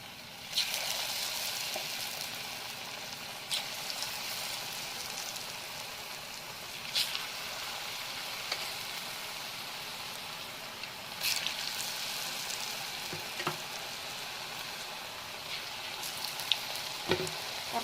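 Cauliflower bajji sizzling as battered pieces go into hot oil: a steady, close broadband hiss that runs throughout, with occasional sharper pops and crackles.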